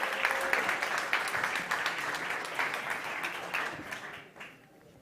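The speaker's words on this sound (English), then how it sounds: "please welcome Mateo from Cycle Systems. Big applause from Colombia" Audience applause at the South Summit 2018 startup competition in an energy and sustainability session, steady dense clapping from a large crowd that swells early and tapers off toward the end.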